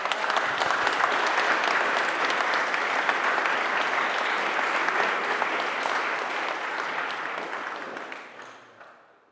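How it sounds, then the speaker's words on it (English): A live audience applauds loudly and steadily at a talk honoring a father, a dense wash of clapping that holds for about eight seconds before tapering off. "Let's give my dad a round of applause."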